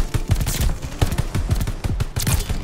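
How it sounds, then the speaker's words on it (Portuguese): A silenced gun fires in the video game Call of Duty: rapid, closely spaced shots in a steady burst, punchy and loud throughout. "Ela tá com silenciador. Mesmo assim, tá fazendo barulho como se não tivesse."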